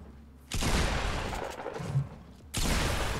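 A pump shotgun fires in Fortnite, one loud broadband blast that decays over about two seconds, followed by a second sharp shot near the end.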